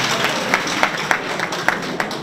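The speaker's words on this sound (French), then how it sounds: "applaudissez pour ça, s'il vous plaît." Audience applause in a studio for a morning talk program, a brief stretch of steady clapping with a few sharper individual claps popping out at regular intervals, moderately loud and alone.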